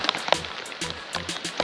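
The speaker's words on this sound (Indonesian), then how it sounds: "cuaca sebenarnya hujan" Rain patters steadily outdoors on a fishing trip for tawes, a soft broadband hiss broken by several sharper drop-like taps, with no talk during the short stretch.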